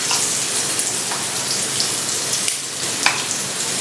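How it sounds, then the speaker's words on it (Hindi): Vegetables sizzle steadily in a hot pan as they are tempered, a loud, even hiss with occasional crackles and pops, heard close up with no talking. "तो मैं यहाँ पे सब्जी छौंक रही थी"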